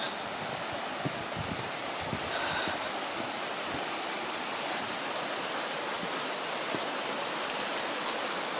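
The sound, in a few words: water flowing under a bridge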